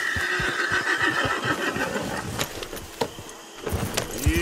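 Horses whinny and neigh in Red Dead Redemption, a loud close whinny over a steady ambient bed, with clattering and jangling tack sounds and a brief rising neigh near the end.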